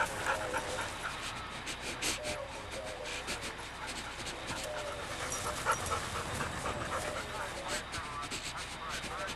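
A dog pants rapidly and steadily at close range, with faint whimpers mixed into the breathing, and a soft background hiss throughout.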